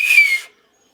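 One shrill, steady whistle blast, loud and close, about half a second long, then abrupt silence.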